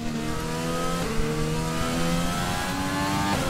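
A Renault-powered Formula 1 car revs in a racing game, its high engine whine climbing through gears with sharp drops at each shift, loud and close, with no talk over it.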